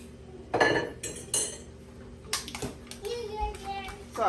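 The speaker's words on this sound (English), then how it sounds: "So I'm, mixing everything together" Ingredients are stirred together in a kitchen while cabbage steams, with clinking and scraping of utensils against dishes in short bursts and brief voices heard in the background.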